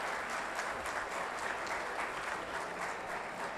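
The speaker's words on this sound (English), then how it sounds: "let's just give a round of applause even though they are not with us today" Audience applause at a convocation ceremony in a hall, steady and dense clapping from a large crowd that holds evenly throughout without a break.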